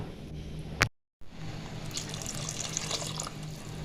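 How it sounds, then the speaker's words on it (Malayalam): Water pours and splashes into a cooking pot for sambar, briefly cut off by a short silence, then a steady trickling flow resumes, close by. "ഒരു മുക്കാൽ ഗ്ലാസ് കൂടി വെള്ളം ഒഴിച്ചു കൊടുക്കണം"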